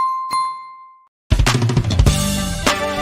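Notification bell sound effect: a single clear high ding that rings and fades out, followed after a brief silence by a loud burst of jingly music with chimes.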